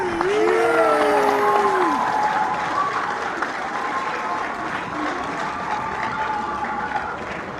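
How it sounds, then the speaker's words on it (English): A crowd applauds and cheers, with sustained clapping and a few high whoops at the start, then a steady wash of applause that tapers slightly over several seconds. "The crowd cheers more."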